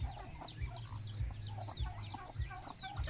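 A mother hen on a farm clucks in short, close, repeated bursts, with soft low thumps between the calls, the sounds coming in an uneven rhythm.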